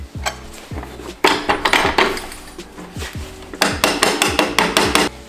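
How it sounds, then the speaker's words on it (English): A mallet tapping a bolt into the mount of a Timbersled snowbike dolly wheel kit, giving a series of sharp metallic knocks in irregular clusters, close and distinct, with no talk. "you use your mallet, just be soft on it because you don't want to hurt the threads."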